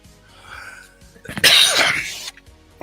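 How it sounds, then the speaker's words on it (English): A person coughs once in a harsh, close burst lasting under a second, set between quieter stretches of near silence. "sorry about the coughing."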